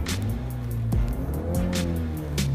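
A Lexus RX hybrid engine revs with a deep, bassy intake note shaped by a reworked intake air resonator. The steady, close drone rises and falls in pitch as the throttle changes, with no talking.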